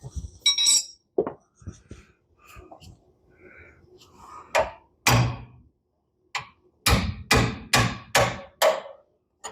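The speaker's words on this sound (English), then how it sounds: "If you hit your wrench with a hammer, which you shouldn't do, you can break the stubborn nuts loose." A hammer strikes a wrench to break stubborn nuts loose on a Jeep, sharp metallic clanks in scattered bursts, with a quick run of closely spaced blows near the end and quiet gaps between.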